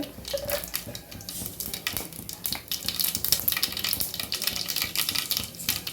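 Mustard seeds and spices frying in castor oil for a fish curry tempering, a dense crackling sizzle with rapid popping and spattering throughout, close and fairly loud, no talking.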